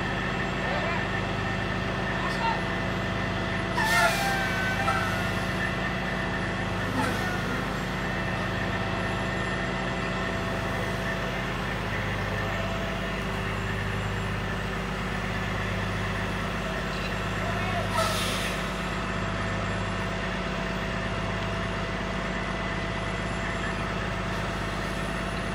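A heavy truck idles at a steep grade with a wrecker hooked to its front, a steady low rumble carrying a rhythmic beeping pattern and a couple of short air-brake hisses, with a voice talking over it.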